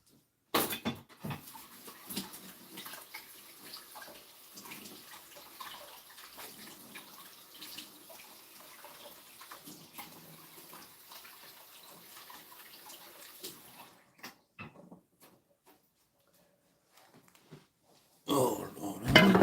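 Sugar plums rinsed under a running tap: a steady splashing stream of water with small clinks and handling noises, fairly quiet, then stopping near the end before a brief louder clatter.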